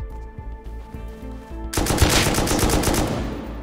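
Rapid AK rifle fire in the survival game Rust, starting abruptly after a quieter stretch of ambient game sound and continuing as a loud, dense, sustained burst.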